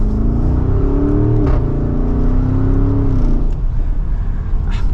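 A 2023 Porsche Cayenne Turbo engine revs up steadily and loudly from second gear, pitch climbing as it accelerates, close up with no talking.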